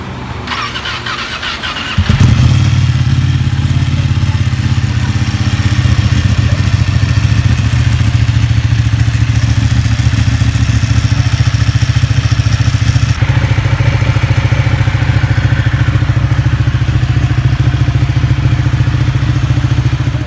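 A Honda CB650R motorcycle fitted with its original exhaust cranks with a brief starter whine, then fires up and settles into a loud, steady idle that runs on without a break.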